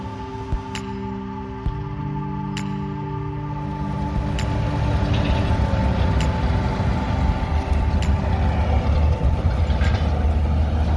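Tractor and combine harvester working a barley field, a steady engine drone with rising machinery rumble and a few sharp clanks near the start, continuous and fairly close with no talk.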